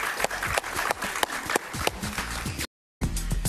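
Studio audience applause on a Miami talk show, a continuous burst of many hands clapping with a faint tonal background underneath, broken by a short dropout of silence near the end before resuming.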